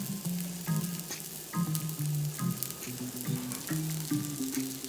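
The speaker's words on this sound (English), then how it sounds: "I'm going to saute this until the onions are translucent." Onions and scallions sauté in hot oil, giving a steady close crackling sizzle with small pops and scraping stirs throughout.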